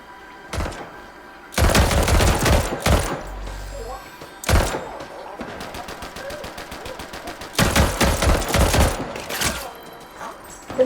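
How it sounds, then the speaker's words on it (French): Video game gunfire arrives in several loud bursts of rapid shots and heavy impacts, separated by quieter stretches with ambient game sound. "Ouais ça tire, ça tire."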